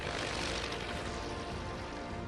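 A WW1 BE-2 biplane's propeller engine drones steadily in flight, a loud, dense and continuous roar with a broad rumble that holds without break.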